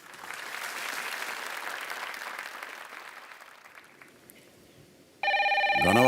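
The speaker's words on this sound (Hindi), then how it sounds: "स्मृति जी, एक साहब हैं जो आपसे बात करना चाहते हैं फोन पे, तो हम वो फोन लगा दें?" Studio applause fades out, then a telephone starts ringing loudly as a call is placed on a televised quiz show, the ring tone sounding steadily in the final second.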